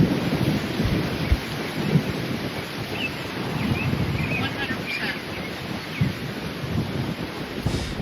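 Heavy rain pours steadily during a severe tornado-producing thunderstorm, with rumbling thunder and gusting wind buffeting the microphone, loud and continuous throughout with a few sharper low booms.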